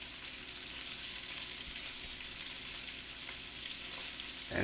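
Smothered chicken in a cream gravy is stirred in a skillet with a wooden spoon, giving a quiet, steady simmering sizzle with faint scraping throughout.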